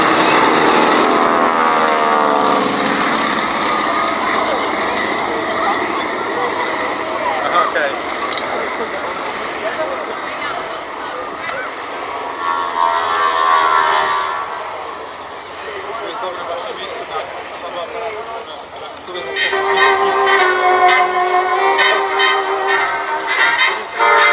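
A Bristol Fighter biplane touching down at the Imperial War Museum Duxford VE Day air show: a loud, steady piston-propeller drone with a buzzing harmonic whine that eases midway and swells again toward the end, with a public-address voice faintly underneath.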